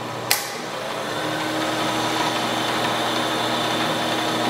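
An Allen multispeed drill press runs steadily at 2520 rpm, a constant loud motor whine and hum after a brief click at the start, close and alone with no voices.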